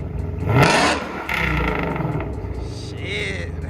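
A Shelby GT500 fitted with catless race pipes revs hard, the engine climbing to a loud roar and holding a raspy, sustained note while people talk nearby.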